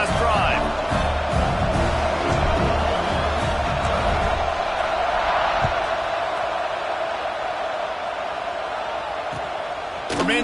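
A football stadium crowd roars in a sustained wash of cheering after a touchdown in a Utah Utes dynasty game, loud and continuous, with a voice talking over it.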